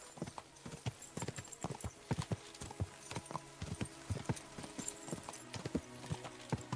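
Horse hooves clip-clopping at a steady walking rhythm in the video game Kingdom Come: Deliverance II, a quiet series of evenly spaced sharp knocks continuing throughout.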